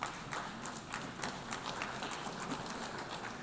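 Audience applause in the UN General Assembly hall, a brief wash of distant, even clapping from a large crowd, moderately faint and steady.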